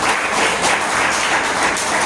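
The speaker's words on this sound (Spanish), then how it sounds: "Denle un aplauso al Señor" Church congregation applauding together during a Spanish-language sermon, a dense steady wash of many hands clapping at close range, sustained evenly throughout with no break.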